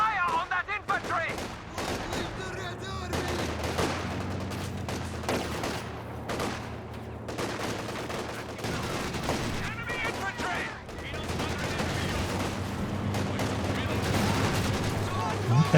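A DShK heavy machine gun fires on infantry in Company of Heroes 2, heard as repeated distant bursts mixed with other gunfire and explosions across a battle soundscape, with a voice talking over parts of it.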